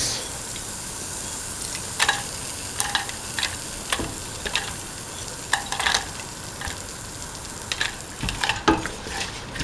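Fennel frying and being stirred in a pan for a lentil, winter melon and coconut rice dish, a steady sizzle broken by irregular clicks and scrapes of the spoon against the pan.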